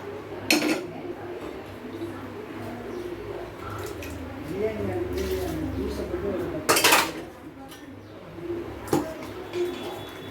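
Cooked lentils being added to a pot of sambar with vegetables, with a few sharp clinks and scrapes of a metal spoon against it and soft pigeon cooing in the background.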